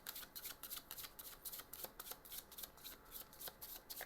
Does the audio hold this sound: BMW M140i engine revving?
no